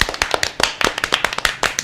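Hand claps ring out in a quick, uneven rhythm, sharp and close, about a dozen distinct slaps in under two seconds, some in tight pairs, with no voices over them.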